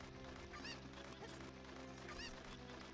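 A cucco chicken in The Legend of Zelda: Ocarina of Time squawks in two short, honking bursts over looping game music, fairly faint, with no talk.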